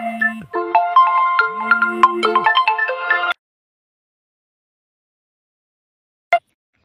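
A mobile phone ringtone plays as an incoming call, a bright electronic melody of stacked tones lasting about three seconds before cutting off, followed by a brief chirp a few seconds later.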